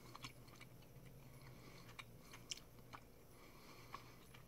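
Soft, sticky gummy vitamin being chewed close up, faint quiet mouth sounds with a few small clicks and squishes scattered over a hushed background.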